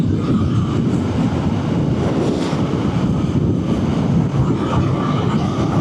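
Triumph Speed Twin 1200 RS motorcycle engine pulling hard on a fast road, heard through strong wind rush at a steady roar, with quick-shifter gear changes buried in the continuous noise.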